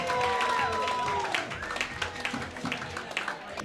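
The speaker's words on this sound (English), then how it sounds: "Clap for both of them." Audience applause at a roast battle comedy show in Denver, a dense burst of clapping from a live crowd that stays loud across the moment, mixed with scattered voices and some cheering.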